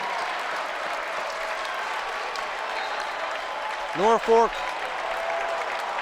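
A packed crowd at a boys Class A state semifinal basketball game, fourth quarter with fans on their feet, sends up steady loud cheering and applause throughout, with an announcer's voice cutting in briefly.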